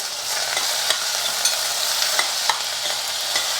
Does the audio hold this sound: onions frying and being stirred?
yes